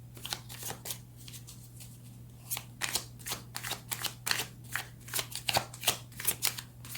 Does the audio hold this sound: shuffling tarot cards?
yes